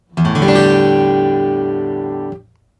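A single acoustic guitar chord strummed once, ringing with a harsh, muddy tone before being muted after about two seconds.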